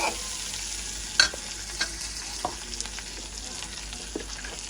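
Onion, green chili and curry leaves sauté in a pan while cooking outdoors in a garden, giving a steady sizzle with a few sharp spatula scrapes and knocks scattered over nearly five seconds.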